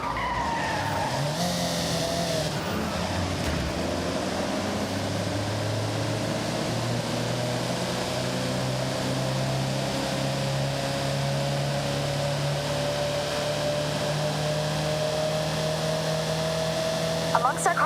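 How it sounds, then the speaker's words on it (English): A Mitsubishi Montero 4x4 drives in Forza Horizon with a loud, continuous engine drone that rises in pitch, and tires squeal and skid early on under a steady game soundtrack. "Amongst our car selection today is the Mitsubishi Montero."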